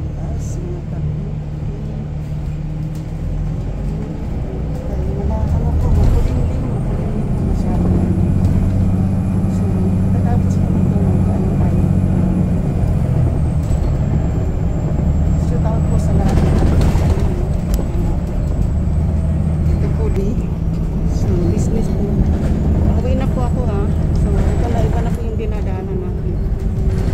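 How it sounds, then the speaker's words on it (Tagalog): Interior of a moving passenger bus on an overcast day: a steady low engine rumble and road drone fill the whole stretch, with a faint whine and occasional rattles, continuous and fairly loud. "Nandito po tayo sa loob ng bus ngayon."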